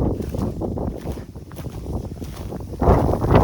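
Strong wind buffets the microphone in gusty rumbling bursts, swelling louder near the end, with no voices.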